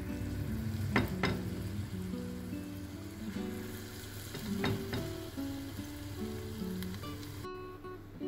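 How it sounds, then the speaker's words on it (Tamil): Banana fritters deep frying in oil, the last batch bubbling with a steady close sizzle and occasional louder crackles and stirring clinks, no talk. "இது இப்போ நான் கடைசி பேட்ச் பொரிச்சுக்கிட்டு இருக்கேன்."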